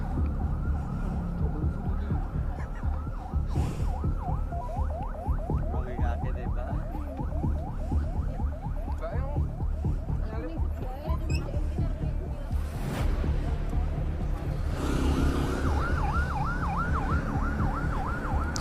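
A wailing ambulance siren rises and falls repeatedly at a middle distance over steady traffic noise, growing more prominent toward the end.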